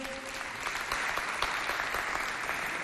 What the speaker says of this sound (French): Applaudissez pour elles, s'il vous plaît.